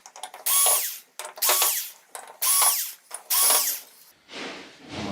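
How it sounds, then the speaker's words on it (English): Power tool backing screws out of a plate on a Samsung UN60FH6003 TV, heard as four short, sharp whirring bursts separated by brief gaps, with a softer whirr at the end. "we are going to need to get these 4 screws out just so we can even see what's underneath"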